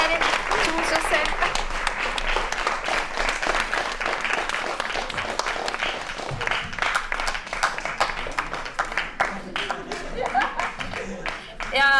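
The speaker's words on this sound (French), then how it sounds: "Je pense qu'on peut les applaudir, toute l'équipe bénévole de Nouveau Cycle qui a rendu cette journée possible" An audience applauds the volunteer team of Nouveaux Cycles as they come on stage, dense sustained clapping from a crowd for the full length, with talk and some laughter over it.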